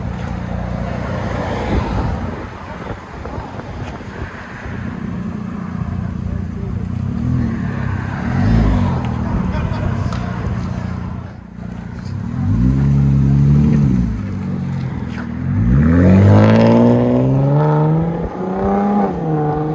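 A 2019 RAM 1500 with a 3.6L V6 and a Dynomax Race Bullet exhaust revs repeatedly, its deep exhaust drone swelling and falling in several pulls, loud and close, with voices speaking in between.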